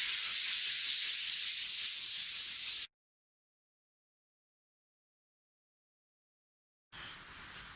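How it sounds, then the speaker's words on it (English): Sandpaper rubs steadily over gold-painted wood on a guitar top, a loud continuous hiss lasting about three seconds, then a long silent gap before a quieter burst of sanding resumes. "I'm just sanding it back to the point where I can see it in the lines of the grain"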